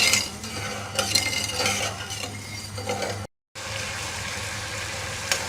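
A spoon stirs sugar and water in a pan as syrup is made, giving soft scraping and faint bubbling sounds, with a brief dropout partway through.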